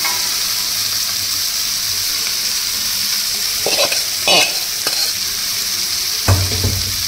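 Potatoes and spiced chickpeas for a dry chickpea curry fry and get stirred in a pan, with a steady sizzle under intermittent scraping strokes of a spoon, close and clear.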